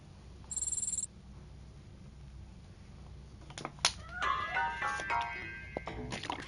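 A cat in Robocop: Rogue City lets out a drawn, wavering meow near the end, preceded by a short electronic beep and some soft knocks over a quiet room ambience.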